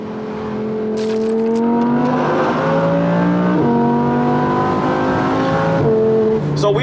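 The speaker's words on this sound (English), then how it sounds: "immediate apologies to my neighbors because Audi R8, cold start" An Audi R8 cold-starting, its engine flaring to a loud high idle with steady rising harmonics that hold and shift slightly, close and alone with no talk.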